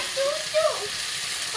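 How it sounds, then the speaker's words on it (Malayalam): Sardines fry in oil in a pan, giving a steady soft hiss of sizzling with a brief tonal murmur over it. "നമ്മുടെ മത്തി നന്നായി ഫ്രൈ ചെയ്യുന്നുണ്ട്."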